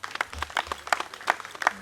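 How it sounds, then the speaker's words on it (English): Applause for the organizers at the University of Nairobi Alumni Association launch of its Mombasa campus chapter, a short burst of scattered clapping from a small crowd, fairly faint. "Tuwapigieni makofi ya kilo."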